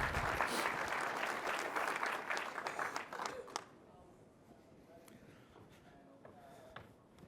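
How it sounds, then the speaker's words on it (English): A conference audience applauds to welcome speakers onto the stage. The clapping is loud and dense for a few seconds, then quickly thins to scattered claps and faint room noise. "So if you give me a round of applause,"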